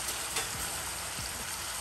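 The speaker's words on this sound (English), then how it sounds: "these shrimps are going OD. They're going in for work right now. It's sizzling. It's popping." Steady crackling sizzle of shrimp frying in a hot pan, a dense hiss with scattered pops, continuous and close.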